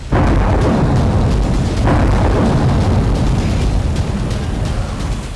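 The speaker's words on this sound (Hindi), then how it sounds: "एयरबेस पर रह रहकर धमाके भी हो रहे हैं।" Repeated explosions at a Crimean airbase hit by a drone attack, a loud continuous low rumbling roar with a sharp burst near the start and another around two seconds, booming alongside the fire.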